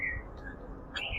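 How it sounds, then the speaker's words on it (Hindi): Birds chirp in short high bursts near the start and again near the end, set against a steady outdoor hum at a yoga retreat campus in Lonavala. "पंछियों की चहचहाहट आप सुन रहे हैं"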